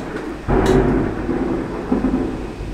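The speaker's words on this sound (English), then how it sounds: "That was a decent clap of thunder." A sudden rumble of thunder breaks in and rolls on low and heavy, with rain hissing steadily throughout.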